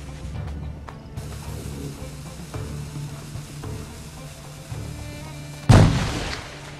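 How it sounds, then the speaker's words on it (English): A grenade goes off in Assassin's Creed IV: Black Flag, a single loud, close blast near the end that bursts out of a low rumble of battle ambience and then fades away. "Grenade coming!"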